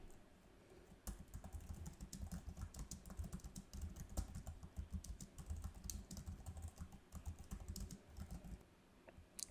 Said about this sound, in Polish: Otworzę sobie ten narzędziownik i wpiszę polecenie,